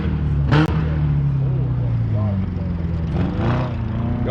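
A car engine rumbles steadily at a car meet, loud and close, with a sharp pop near the start and a faint rising rev later, while a person talks over it.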